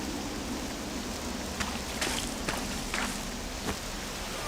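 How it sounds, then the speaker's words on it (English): Steady rain falls in Octopath Traveler II, a constant even hiss with a few soft footstep-like thuds scattered through it and no voices. "the rain doesn't look like it'll let up anytime soon."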